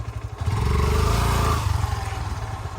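Motorcycle stuck in deep mud inside Harbang forest, its engine revving hard in a sustained loud burst, then dropping back to a lumpy idle with clattering.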